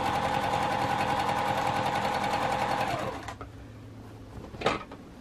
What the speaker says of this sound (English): I'm just going to be sewing my binding on the back of my quilt a quarter inch away from the edge.